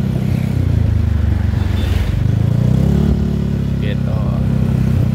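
Yamaha Fino 125 scooter bored up to 59mm cruising on an open road, a steady loud engine drone with wind rush continuing throughout, its pitch shifting slightly midway.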